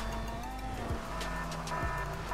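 Car engine in a GTA Online stunt race, a steady close engine drone with two brief low thumps, like landings or bumps, and faint background sound.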